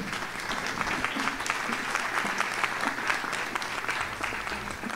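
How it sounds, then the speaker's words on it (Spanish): An audience applauds as the next panelist, a public health specialist, is invited up at a university event in Quito, with steady, dense clapping filling the room. "Un fuerte aplauso para ella también."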